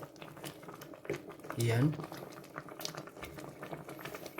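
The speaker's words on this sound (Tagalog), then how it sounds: "Wow, kulong-kulo na guys." Mung bean soup bubbling in a pot with chili added, a low simmering patter under a cook's talk, with a brief louder burst of stirring and clinking near the middle.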